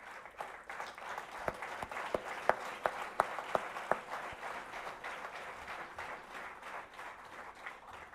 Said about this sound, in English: A big applause again, please.